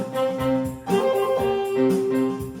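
An orchestra performs Brawl Stars game music, with sustained tonal notes and rhythmic accented swells, loud and clear with no talking over it.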